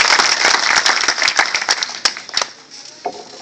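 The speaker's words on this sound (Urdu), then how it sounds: "عمر بخش صاحب جو سجادہ نشین کھڑی شریف ہے، میں چاہتا ہوں کہ ایک دفعہ زوردار تالیوں سے ان کی خوش آمدید کیجیے" An audience at a speech event in Khari Sharif, Kashmir, bursts into loud applause to welcome a guest. Sharp, dense clapping rings out close by, then thins into scattered claps before fading out near the end.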